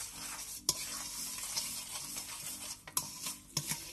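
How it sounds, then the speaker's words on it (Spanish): A sunflower oil mixture for butterless, yeast-free cookies is stirred in a bowl, with soft swishing and sharp spoon clicks against the sides at irregular moments, close and fairly quiet. "Vamos a remover un poquito."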